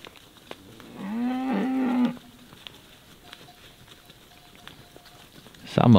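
Cattle in a farm barn or pen moo once, a long loud harmonic call lasting about a second, followed by quieter ambient shuffling and a brief louder noise at the end.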